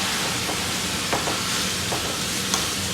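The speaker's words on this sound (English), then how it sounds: "Next, we're going to stir this up, y'all." Ground beef stirred with beef bouillon in a frying pan, with a steady sizzle and a few soft scrapes of the utensil across the pan, close and fairly quiet.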